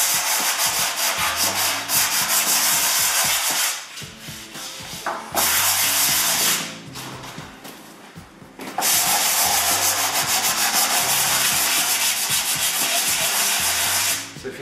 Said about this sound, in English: with a fine grit paper, it doesn't need too much sanding